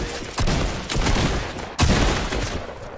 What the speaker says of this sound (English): I'm gonna shoot this.